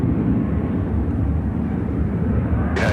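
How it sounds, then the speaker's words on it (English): A United Airlines Boeing 757-200 taking off at Chicago O'Hare: a steady, broad low jet rumble heard from a distance, continuous and alone without talk. "This is United Airlines 2683 taking off to San Diego on the"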